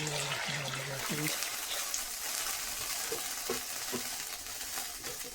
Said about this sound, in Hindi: गालने के लिए अब हम इसमें पानी ऐड करेंगे।